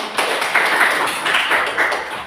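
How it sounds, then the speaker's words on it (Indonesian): A group of Indonesian schoolchildren in a classroom clap together in quick, rhythmic unison, producing a steady, close and loud patter of claps. "Bagus sekali, tepuk tangan."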